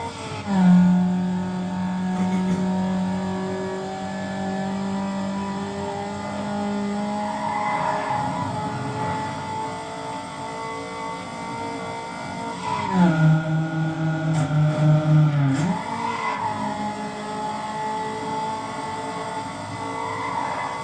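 A car in the racing game NFS Underground, its engine revving steadily in held gears with a sharp drop and climb at a shift, plus brief tire-spin noise, loud and steady throughout without talking.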